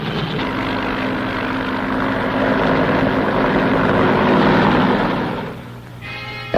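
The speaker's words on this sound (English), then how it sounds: "Fleets of helicopters lift men and artillery into the hills surrounding the base." Helicopters lifting troops and artillery into the hills around a base during the Vietnam War, a loud continuous rotor and engine roar that holds steady for several seconds before easing off.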